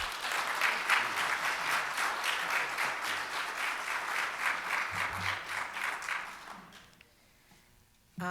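A room full of people at a Rotary club meeting applauds steadily, the clapping dense and even, then fading out to near silence over the final seconds.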